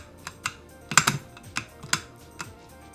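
Fingers moving over a flat, low-profile keyboard with short key travel, giving a run of light, uneven clicks and taps, some quick doubled strikes, close and alone.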